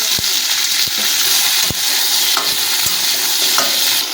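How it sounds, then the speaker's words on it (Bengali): Salted okra fries in a hot pan with a steady sizzle, while a spatula scrapes and clicks against the pan in irregular stirs. "লবণ ছড়িয়ে দেবো ঢেঁড়সগুলোর ওপরে দিয়ে এটাকে ভেজে নেব"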